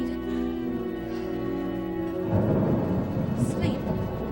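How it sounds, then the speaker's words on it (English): A low rumble of stage thunder swells midway through a scene in an American stage production of Jane Eyre, rolling under sung voices and sustained music. "What is this thunder?"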